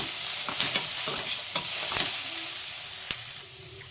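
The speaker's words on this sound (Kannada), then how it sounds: "ಒಂದು ನಾಲ್ಕರಿಂದ ಐದು ಲವಂಗ ಎಲ್ಲಾದರೂ ಸ್ವಲ್ಪ ಚೆನ್ನಾಗಿ ಫ್ರೈ ಮಾಡ್ಕೋಬೇಕು ಮಸಾಲೆಗಳೆಲ್ಲ" Cloves, cardamom and other whole spices fry in oil in a pan for a paneer egg curry, giving a steady close sizzle broken by several sharp stirring scrapes and taps, with no voices.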